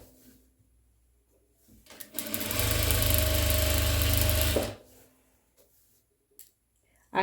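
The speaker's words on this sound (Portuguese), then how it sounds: "Vou virar e vou continuar a minha costura, tá?" A sewing machine runs in one steady, loud burst of about two and a half seconds while stitching a pinned dish towel, with quiet handling noises before and after it.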